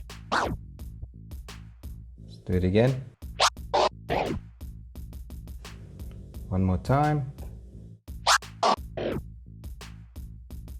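Two-click flare scratches cut with the crossfader on a Pioneer DDJ-S controller, chopped bursts over a steady backing beat, with someone speaking between passes.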